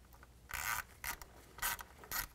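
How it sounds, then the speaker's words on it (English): A 10 mm socket ratchet tightens an ignition coil bolt on a 2011-2017 Dodge Grand Caravan, four short bursts of close, crisp ratcheting clicks separated by brief pauses. "Take a 10 millimeter socket, tighten it up."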